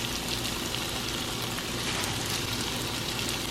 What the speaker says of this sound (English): While the potatoes are cooking